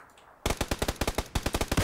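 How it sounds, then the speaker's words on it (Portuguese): Assault rifle in the PUBG Battlegrounds video game firing a loud, close, rapid automatic burst of about fifteen evenly spaced shots after a brief quiet start, with a short gap partway through. "Dá tiro de assalto nela"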